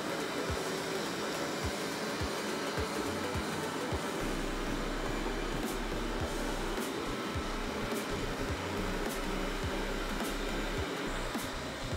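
A Narwal T10 robot vacuum runs steadily as it sucks up coffee grounds, a constant whirring roar with faint periodic ticks and no talk over it.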